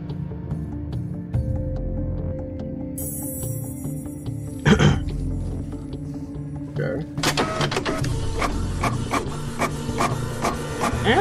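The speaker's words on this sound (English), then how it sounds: "We need to go to the printer." A printer whirs and clatters in the Fortnite Creative game Nightmare Shift, with mechanical buzzes and a louder burst of rapid ticking toward the end, under players' voices.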